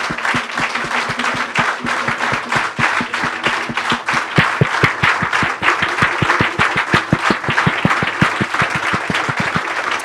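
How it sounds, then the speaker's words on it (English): Loud, sustained round of applause from an audience at a commemorative gathering, dense clapping running steadily throughout with a faint crowd murmur beneath it. "Let's give a round of applause, stronger than this one."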